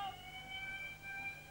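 A fire engine siren holds a sustained wailing tone, faint and distant, over low background rumble with no voices.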